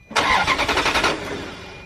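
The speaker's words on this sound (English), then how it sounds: "Okay, go ahead, start the engine." A misfiring Ferrari engine cranks and catches, a loud rhythmic churning for about a second before settling into a steady idle.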